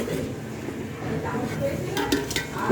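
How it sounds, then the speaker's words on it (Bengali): Pot and utensils clank and scrape while biryani cooks at home, with irregular metallic knocks and stirring over a steady kitchen background and nearby voices. "কি ঠং করে আওয়াজ করো, ঠং করে।"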